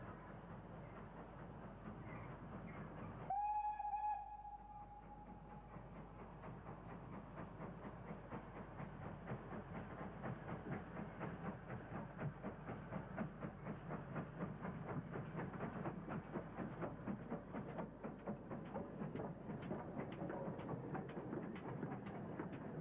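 A Dean Forest Railway pair, led by a Ginty locomotive, threads a parcels working through dense overgrowth toward Parkend. A brief whistle sounds early, then a steady rumble builds with rhythmic clickety-clack of wagons rolling past, sustained and fairly loud.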